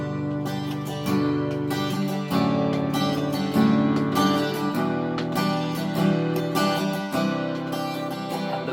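Guitar plays a song intro, moving through a few chords with steady strums that ring out close and clear. Nothing else is heard alongside the guitar.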